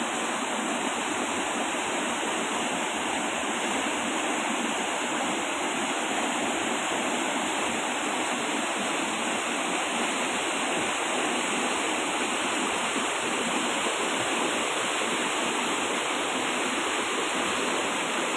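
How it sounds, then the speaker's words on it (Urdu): Clear water rushes over large rocks in a mountain stream near the village of Nara in Haripur, making a loud, continuous, even roar that never pauses, with no voices. "یہ پانی کی موسیقی بھی بہت زیادہ لبھاتی ہے۔"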